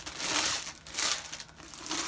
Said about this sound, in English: It's in its own plastic bag.